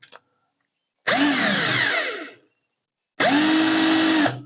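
An electric drill spinning a part against sandpaper whirs in two separate bursts, each about a second long, loud and close, with silence between them.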